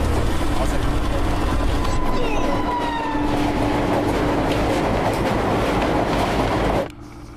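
A train rolls steadily along the rails, giving a loud, continuous rumble with faint clatter and some high squealing. The noise drops off abruptly near the end.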